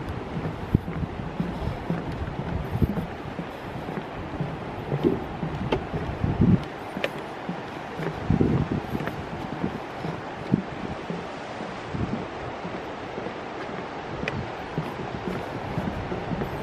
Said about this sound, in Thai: เสียงน้ำตก